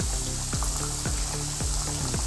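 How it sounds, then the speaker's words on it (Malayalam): Murukku made from leftover rice deep-frying in hot oil gives a steady, dense, close sizzle with bubbling crackle, and soft regular clicks about every half second run beneath it. "പിന്നെ നമുക്ക് ഇനി ഇതുപോലെ ഓരോന്നായിട്ട് ഇട്ടിട്ട് ഫ്രൈ ചെയ്തെടുക്കാം"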